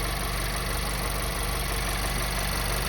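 Mazda ND Miata engine idling just after start-up during a coolant change, a steady low mechanical hum with faint rhythmic pulsing, close and unbroken for a few seconds, no voices.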